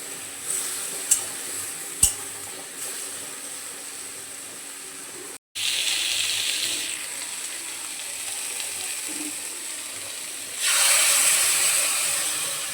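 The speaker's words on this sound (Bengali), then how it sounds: "তারপরে দিয়ে দেব পোস্তর বাটি ধোয়া জল।" Poppy-seed bowl rinse water pours into a hot frying pan of frying potato and drumstick posto, setting off a loud steady sizzling hiss that swells again near the end, with a couple of clinks early on.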